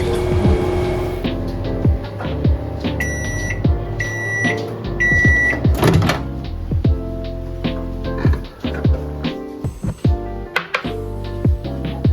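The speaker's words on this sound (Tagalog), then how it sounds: "Melt the chocolates in microwave." A steady microwave oven hum runs throughout while chocolate melts, with high electronic beeps chiming in short bursts and scattered clicks and clatter nearby.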